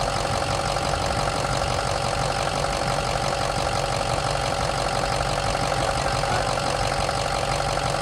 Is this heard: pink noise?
no